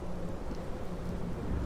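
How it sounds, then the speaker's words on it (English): A thunderstorm with steady rain and a low, continuous rumble, holding at an even, moderately loud level with no talk. "During the storm."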